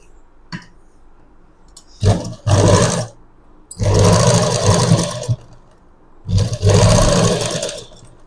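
A sewing machine stitches neck piping onto a garment in three loud, close bursts of whirring motor running, with short quiet gaps between them and no talk.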